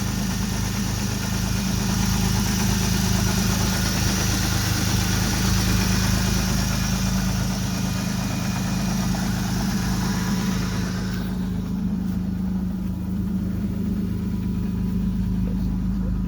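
The engine of a 1988 Plymouth Voyager van idles in a steady, even, mid-pitched rumble with a faint vibrating hum, heard up close and continuously for about sixteen seconds, its upper hiss easing near the end.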